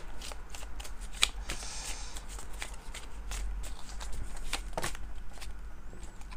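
Slick playing cards are shuffled and slid across a table in a run of quick riffling flicks and soft swishes, close and fairly quiet, with no talking.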